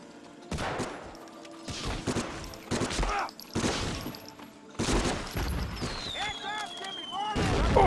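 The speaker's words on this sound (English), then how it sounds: "We'll hear the distant sound of gunfire" Video game gunfire crackles in several distant volleys, some rapid like automatic fire, with booming low rumbles between them and occasional electronic whines.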